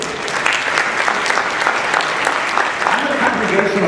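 Audience at a JFNA General Assembly gathering applauding a rabbi's speech, a dense, steady patter of many clapping hands filling the room.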